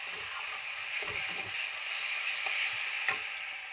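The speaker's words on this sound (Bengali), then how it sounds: "আর 2 মিনিট ভাজবো" Spices sizzle steadily in hot oil in a pan for a soybean and potato curry, with soft scraping stirs now and then, close and continuous, with no voices.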